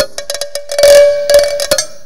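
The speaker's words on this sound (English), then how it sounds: "It turns out I have like 50 cowbell sounds." Cowbell samples struck in a quick sequence, bright metallic clanks with a ringing pitched tone, several rapid hits close together and loud, no talking.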